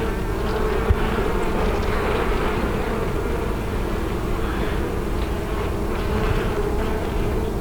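A dense, steady buzz of many honey bees, loud and continuous throughout, with no voices.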